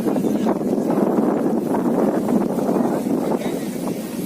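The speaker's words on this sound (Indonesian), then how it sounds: "Kalau sekarang anginnya agak kencang." Strong wind buffets the microphone at a beach kite-flying spot near the end of the kite season, a steady loud roar with gusty rumble throughout and no clear voices.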